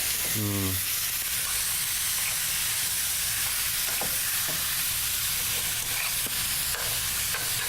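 Soft beef sears for lomo saltado in a pan with little oil, stirred constantly. A loud, continuous sizzle fills the clip, broken by occasional clinks and scrapes of the utensil, and no voices are heard.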